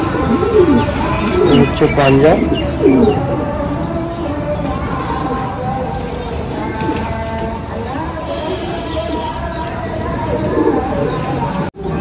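A crowd of Golden Kamagar pigeons coos steadily throughout, a dense, rolling murmur close by, while someone talks over it for much of the time.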